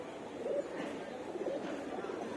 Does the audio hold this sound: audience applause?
no